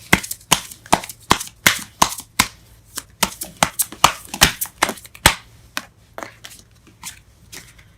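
Tarot cards are shuffled and pulled close by, a brisk run of crisp slapping snaps and riffles that thin out toward the end, with no talking.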